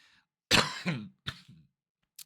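A single close throat-clearing cough, harsh and brief, followed by a softer rasp and short quiet gaps.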